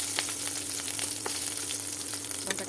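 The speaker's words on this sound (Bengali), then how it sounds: "লঙ্কাটাকে আমি ভেজে নিলাম" Chilli frying in oil in a wok, producing an even, hissing sizzle with faint crackles and light stirring.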